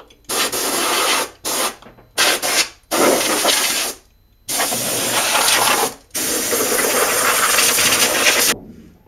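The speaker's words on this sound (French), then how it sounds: "si vous avez un compresseur, vous pouvez utiliser la soufflette pour bien aller chercher certaines saletés" Loud bursts of compressed air hiss from a blow gun in several blasts of varying length, separated by short silent pauses, close by, while cleaning a car's engine compartment.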